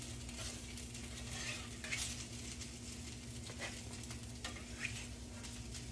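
Potato patties fry in a pan with a quiet, steady sizzle and scattered light crackles and utensil taps, faint and close over a low constant hum.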